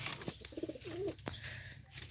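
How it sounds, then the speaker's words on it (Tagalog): Pigeons cooing close by, a short run of soft throaty coos along with a few sharp clicks and flutters, no talking. "Yan na mga kalapatids"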